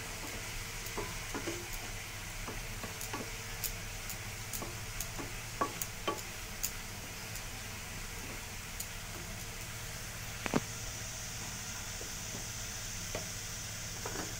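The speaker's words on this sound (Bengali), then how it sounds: "এবার মশলাটাকে আমি ভালো করে কষিয়ে নেব" Spices with chili powder and salt are sautéed in a pan for a vegetarian rice and paneer dish, making a steady sizzle broken by scattered stirring clicks and scrapes.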